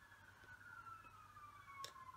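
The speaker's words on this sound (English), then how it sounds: "It sounds like police and ambulance." Distant police and ambulance sirens drifting in from outside on a snowy day, a faint sustained wail holding steady in the background.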